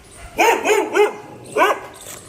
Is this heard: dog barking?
yes